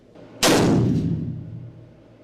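A real rifle shot striking a metal target plate: one sudden, very loud crack with a sharp attack, then a long ringing, rumbling decay that fades over about two seconds.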